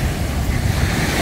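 Sea waves on an island beach at San Victor Island, Davao Oriental, a brief rushing wash of surf mixed with heavy wind buffeting close to the microphone.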